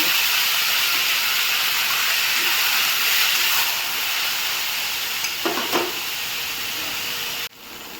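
Raw banana pieces hit a hot pan and sizzle with a steady frying hiss. A few soft clinks follow, and the sound drops suddenly near the end.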